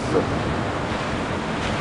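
Atlantic surf at Anglet on a rising tide, with a long west-northwest swell rolling in. It makes a steady, broad wash of breaking waves mixed with wind buffeting the microphone, continuous throughout.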